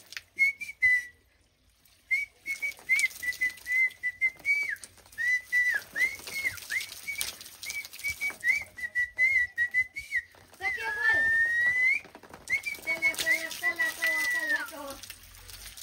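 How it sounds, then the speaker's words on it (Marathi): A person whistles a melody up close, clear and tuneful, in phrases broken by short pauses, with a brief voice in one gap. "अजून एक शिट्टीतनं गाणं म्हणतो ते सांगा"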